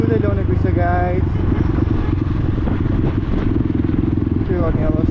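A motorcycle with a loud exhaust rides through a park in Switzerland, its deep engine rumble steady and close throughout, with voices talking over it.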